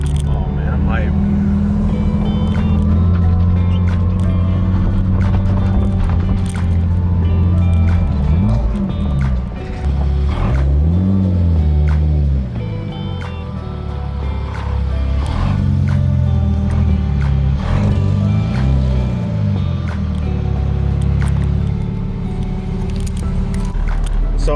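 K-swapped car driving up and down a street after a rough-idle fix, a steady engine drone with rising and falling pitch sweeps as it accelerates and shifts, with people talking over it.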